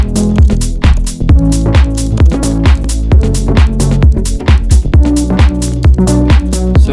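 Synth bass line built from Bass House Tools and Deep House Starter presets, loud punchy low notes pulsing in a bouncy house rhythm with pitch drops and a thumping beat underneath, no voices.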